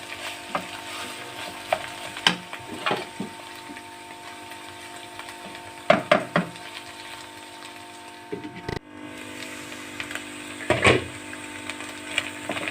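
Bottle gourd halwa cooks in ghee over a low flame with a soft steady sizzle, broken by several sharp clicks and scrapes of stirring and a lid being moved.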